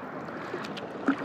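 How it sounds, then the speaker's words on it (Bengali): Soft paddle strokes and gentle water lapping from a kayak on the lake at Kaptai, Rangamati, Bangladesh, faint and close under light wind, with no talk. "তো আমরা এখন কায়াকিং করছি, শিখছি আসলে কায়াকিং করা।"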